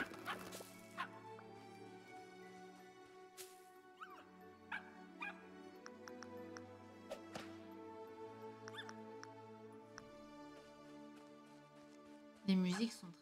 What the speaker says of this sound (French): Pourquoi le chien il aboie comme ça là?